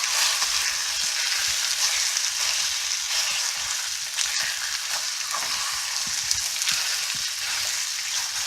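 Kung Pao chicken sizzles loudly in a hot pan, a dense continuous frying hiss with scattered scraping taps from a spatula breaking up the pieces.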